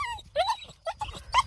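A coonhound puppy whimpers in a few short, high, rising whines close by, one of a litter of puppies, with brief gaps between the cries.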